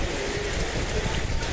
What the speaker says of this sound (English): It's pissing down with rain